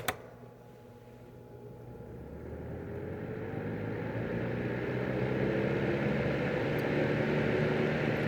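A 1989 Lakewood Model 711 personal heater fan runs on high heat, a click at the start followed by a steady broadband whoosh of moving air that gradually grows louder and fuller.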